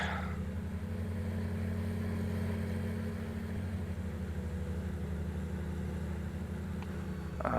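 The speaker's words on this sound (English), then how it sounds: "It is my absolute favorite tractor." Steady tractor engine idling or running at an even pitch in a farming video game, loud and continuous with a constant low hum, no talk over it.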